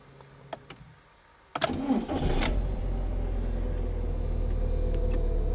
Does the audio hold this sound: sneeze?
no